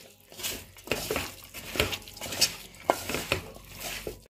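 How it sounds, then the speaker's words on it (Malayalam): Biryani masala being mixed and stirred by hand, giving a series of wet, squelching pats and scrapes in an irregular rhythm, close and fairly clear with no talk. "നന്നായി ഇളക്കി യോജിപ്പിച്ചിട്ടുണ്ട്"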